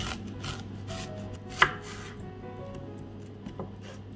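A red onion is sliced in half on a cutting board in a kitchen, giving a few soft knife-through-flesh sounds and one sharper chop against the board, close and fairly quiet, with no talking.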